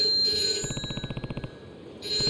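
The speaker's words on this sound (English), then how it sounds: "Payphone's ringing." A payphone in Yakuza 3 Remastered on PS5 rings with a quick, evenly pulsed electronic trill lasting about a second, moderately loud over quiet in-game ambience.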